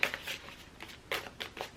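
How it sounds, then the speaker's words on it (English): Tarot cards are shuffled by hand in a few soft, quick riffling bursts, close and quiet, with no talking. "Okay, we're gonna shuffle for"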